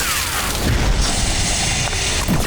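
Cartoon weapon fired repeatedly in an animated scene, a loud sustained booming blast with dense rumble and crackle running through the whole stretch, no speech over it.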